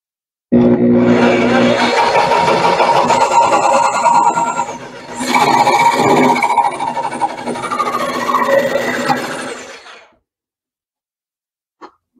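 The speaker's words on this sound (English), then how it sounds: "Now I'm going to use the jigsaw with a fine blade at low RPM." Jigsaw fitted with a fine blade running at low speed, cutting posts on a fiberglass hull for an RC model of an 1898 supply steamer; a steady loud buzzing drone for about ten seconds, shifting in tone midway, then stopping.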